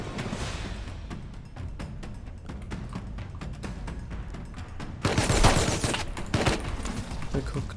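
Rapid gunfire in a video game crackles in dense repeated bursts, swelling to a louder, harsher barrage partway through, with voices talking over it.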